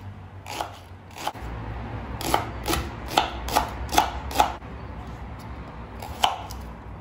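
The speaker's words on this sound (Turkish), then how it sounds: "Gösterdiğim şekilde ince ince kıyıyorum." A knife finely slicing leeks on a board, a burst of about six crisp regular chops in the middle with a few scattered cuts before and after, close and clear over light room noise.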